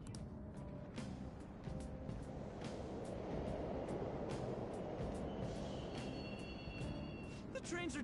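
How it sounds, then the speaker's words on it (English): Subway trains rumble steadily through an underground station in the video game Persona 5 Royal, a continuous broad roar with faint high squeals and tones, loud and close throughout, with voices talking over it. "The trains are totally running!"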